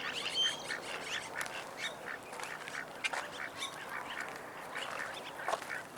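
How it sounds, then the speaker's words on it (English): Ducklings and ducks at a lake give a busy stream of quacks and peeps, steady and moderately close, with no talking over them. "Those look like baby ducks."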